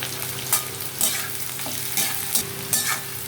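Sliced onions frying in hot oil in a pan, a steady close sizzle with a soft scrape of stirring about every half second, no voices.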